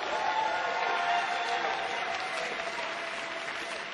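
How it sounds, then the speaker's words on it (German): Applause from the audience at a German poetry slam championship, a continuous dense round of clapping from a large crowd that tapers slightly over four seconds. "einen Applaus für die Bücher bitte."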